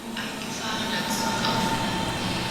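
A train in Berlin rumbles steadily with a continuous rolling hum and rattle, and a voice speaks over it.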